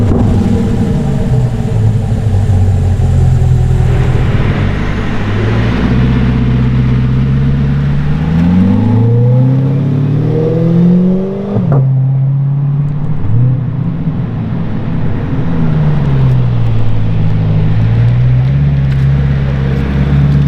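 Corvette C8 fitted with a custom exhaust, loud and close, idling with a deep rumble, then sweeping up through several rising revs before dropping back to a burbling idle.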